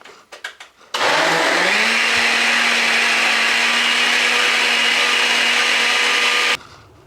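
After a few light knocks, a kitchen blender whirs loudly and steadily for about five seconds, churning a liquid ale base at close range, then cuts off abruptly.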